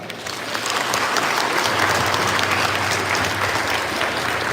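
Loud applause from a crowd at a live event, as performers and musicians are thanked, swelling quickly into a thick, sustained roar of clapping that continues evenly to the end.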